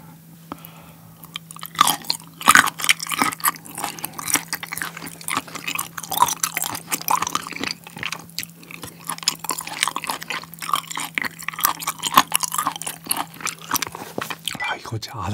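Close-up chewing of aged sashimi, sea bream belly and flounder: continuous wet, crunchy bites and mastication over a steady low hum.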